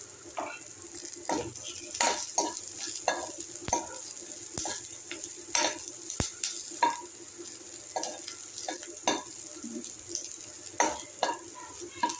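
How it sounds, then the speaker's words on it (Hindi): Sliced onions fry in a pan for a mixed arhar and urad kevti dal, with a steady soft sizzle and frequent close scrapes and clinks of a spoon stirring against the pan. "ये अब ये पक रहा, मेरा प्याज पक जाए थोड़ा सा ब्राउन कलर का"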